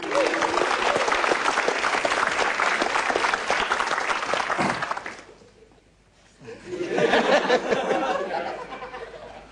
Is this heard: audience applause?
yes